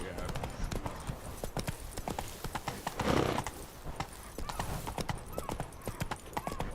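A horse gallops with rapid, rhythmic clip-clop hoofbeats in the Witcher 3 video game, with a whinny partway through and a voice talking over it.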